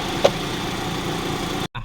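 A Mitsubishi 4G63 engine idles with the air conditioning running, a steady close hum with a brief bump early on, then cutting out abruptly near the end.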